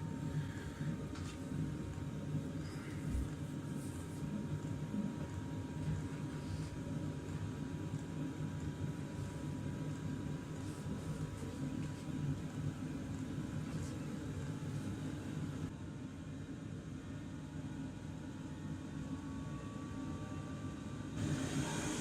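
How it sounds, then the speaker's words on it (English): Steady hum of a diesel heater's fuel pump and fan running, a constant low drone with a faint whine gradually rising in speed, alone and quiet. "Pump speed and fan slowly increasing."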